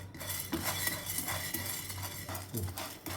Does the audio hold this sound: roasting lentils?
yes